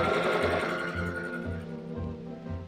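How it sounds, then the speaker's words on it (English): A sewing machine stitches a costume dress with a rapid, even mechanical whir and low chugging pulse, close by, under a dense layer of background music that fades slightly toward the end. "we're just gonna keep sewing and get this dress put together today"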